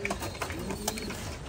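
Pigeons coo softly in a brief, faint burst of low, throaty calls, with a few soft pulses standing out over quiet background noise.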